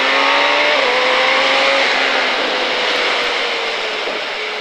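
A 2005 KTM Superduke motorcycle at full throttle on a track at Pau, its engine a loud, steady high-pitched roar with rising tone, close and unbroken, without talk.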